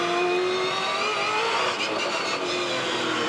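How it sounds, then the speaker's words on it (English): Onboard V8 Supercar engine at Winton in second gear through turn 11, a loud continuous high-pitched roar holding steady with slight dips. "This is on board with Bright at turn 11"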